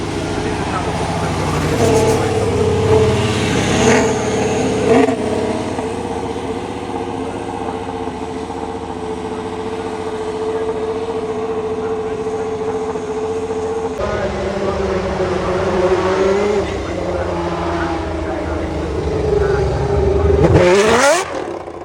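Racing car in Rock Walker Racing colours running up the hill at Goodwood Festival of Speed, engine droning and revving steadily nearby, rising near the end, under a commentator's talk.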